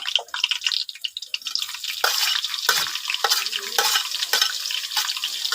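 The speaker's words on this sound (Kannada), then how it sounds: "ಇದನ್ನು ಒಂದು 2 ನಿಮಿಷ, 2ರಿಂದ 3 ನಿಮಿಷ ಫ್ರೈ ಮಾಡ್ತೀನಿ" Chopped green chillies fry in hot oil over a high flame with a bright, close sizzle and a few brisk stirring scrapes, heard alone.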